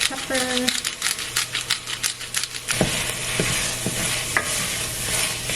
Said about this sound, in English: The veggies alone sauteing smells so good.